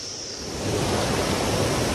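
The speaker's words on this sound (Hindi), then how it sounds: "मैं यहाँ झरने पे खड़ा हूँ, झरने का पानी बहुत ज्यादा ठंडा है" Cold waterfall water pouring steadily at a hometown beauty spot, a dense broad rushing roar that swells louder after the first moment and holds constant, close and without speech.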